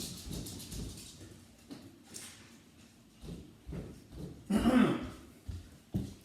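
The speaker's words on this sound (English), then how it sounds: "the little fella's doing a little bit of coughing" A little boy coughing repeatedly, a series of short, fairly close coughs with pauses between them and a stronger burst near the middle.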